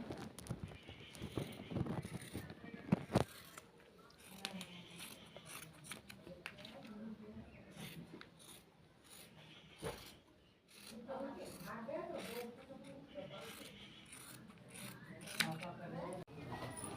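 Scissors snip through kurti fabric to cut a round neck piece, with irregular crisp cuts and rustling cloth at close range, faint and intermittent.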